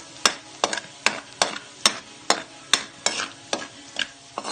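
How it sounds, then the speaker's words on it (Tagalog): Garlic browns in oil for pork sisig, heard as a soft sizzle under a regular series of about a dozen sharp scraping stirs of a utensil against the pan, no talking. "Mag-brown na yung bawang. Kailangan may brown ang kulay ng bawang sa pag-isa para"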